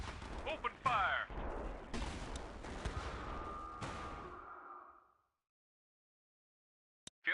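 Gunfire in the Battle Islands Commanders video game rings out as a dense fusillade of shots and blasts for about five seconds, then cuts to silence, with a single sharp crack near the end.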